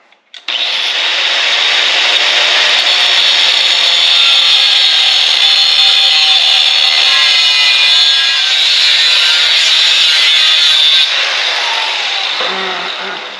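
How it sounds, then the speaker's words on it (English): A 4-inch angle grinder cuts through metal on a homemade tractor snow attachment, a loud continuous high whine with hissing abrasion that starts abruptly, holds steady for about ten seconds, then eases off and stops. "I'm going to cut this with a 4-inch grinder"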